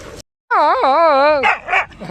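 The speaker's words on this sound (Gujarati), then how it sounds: "બહુ હેરાન કરે કૂતરો" A farm dog gives a loud, drawn-out howling bark with wavering pitch, close by, followed by a couple of shorter yelps after a brief pause.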